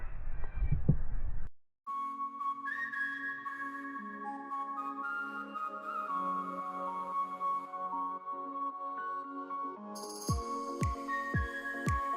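Several wild geese honk in a loose, overlapping chorus at moderate distance, their calls repeating steadily over a low, sustained background.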